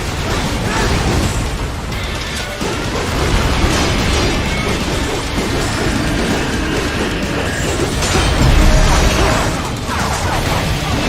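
Missile explosion in the video game Metal Gear Rising: Revengeance, a dense, loud rumbling blast layered with crashing game noise that swells near the end, with game dialogue mixed in.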